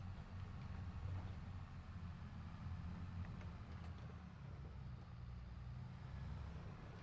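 A new tractor engine droning in a farming video game, a low steady rumble held at an even, fairly quiet level throughout with no speech.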